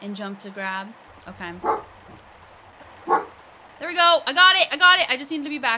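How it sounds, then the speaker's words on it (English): A dog barks in short bursts in the background of a home gaming session while a person talks over a remastered Tomb Raider playthrough, with a few sharp yips breaking through between the speech. "I'm so sorry for my dog barking like that."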